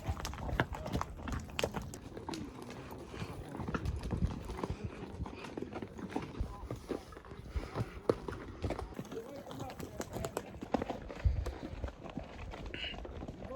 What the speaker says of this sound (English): We are horseback riding.